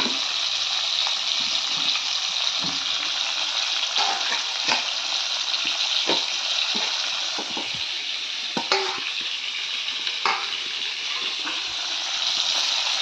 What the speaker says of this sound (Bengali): চার পিস মাছ ভাজতে দিয়েছিলাম, এখন এই যে মাথা দুটোও দিয়ে দিলাম যে ভাজা হয়ে যাক।